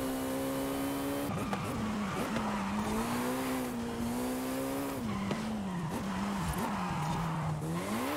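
Jaguar C-X75 driven hard in Forza Horizon 5, with a steady high engine whine whose pitch rises and falls through gear changes and cornering, plus tire squeal, continuous and close throughout.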